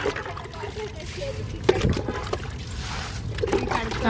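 Water is poured out in a steady, low splashing trickle lasting a few seconds, with people talking over it throughout.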